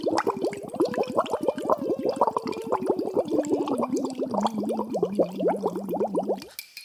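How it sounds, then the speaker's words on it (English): A voice hums through a straw submerged in water as a singing exercise, producing rapid continuous bubbling with a pitched tone that glides and steps downward, close and loud for several seconds before stopping. "Okay, now we're going to do it with the straw in water."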